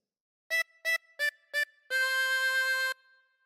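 Harmonica plays a simple phrase of Old MacDonald Had a Farm: four short separate notes followed by one long sustained note, close and clear with no talking.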